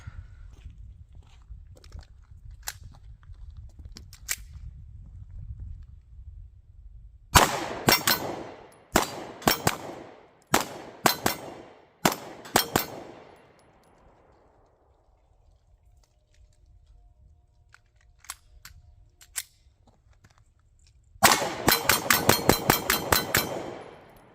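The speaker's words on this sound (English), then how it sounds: "the rapid fire is real controllable due to the light recoil impulse of this thing" S&W CSX Micro 9mm pistol fired outdoors at a range: sharp single shots in bursts, then a fast final string of rapid fire, with quiet gaps and faint background rumble between.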